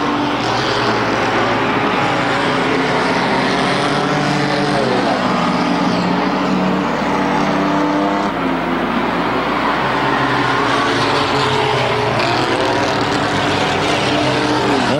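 Stock cars roar around a track in a feature race, a loud, continuous engine drone with rising and falling pitch as cars pass and accelerate close by.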